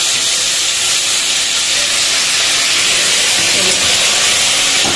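Lentils (dal) tipped into hot oil in a kadai, producing a loud, steady, close hiss that holds evenly for the whole stretch.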